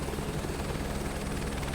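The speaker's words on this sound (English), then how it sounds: "to get the helicopter into full momentum and creating lift over the rotors" A helicopter's rotor and engine in Microsoft Flight Simulator 2024 run through a scenic flight near Everest base camp, giving a loud steady broadband whir with a low rhythmic thrum and no talk.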